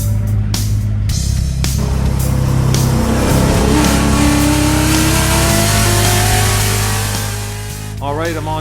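A track car engine runs loud and close at a race event, a steady mid-pitched rumble that rises in revs and then settles, with a voice briefly heard near the end.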